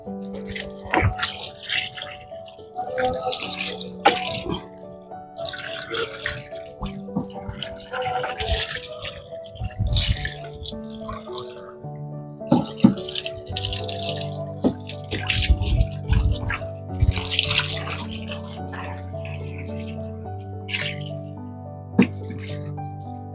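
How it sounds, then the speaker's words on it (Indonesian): Water from a hose or tap rinses an electric motorbike during a wash, splashing and dripping in uneven bursts over about twenty seconds, close by, with steady background music throughout. "Nah, selanjutnya kita siram motornya ya."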